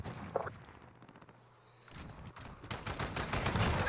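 Gunfire from a Modern Warfare online match builds from a few distant shots into dense, loud bursts of rapid automatic fire filling the last second and a half.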